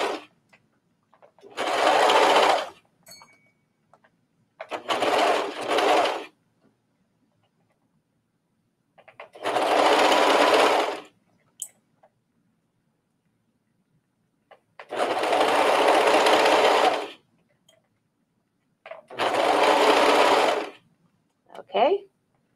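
A serger sewing a knit tee runs in five loud bursts of rapid whirring stitching, each a second or two long, separated by quiet pauses.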